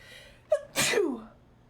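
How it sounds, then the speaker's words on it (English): A person gives a single loud, close sneeze with a brief sharp intake of breath just before it, then the room falls quiet. "I need to sneeze."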